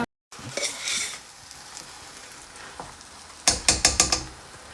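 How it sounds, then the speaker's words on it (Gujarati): Onions sautéing in a pan in a home kitchen give a steady soft sizzle throughout, then a quick run of sharp clatters near the end as the pan is stirred. "ઓનિયન ને સાંતળી રહ્યા છે."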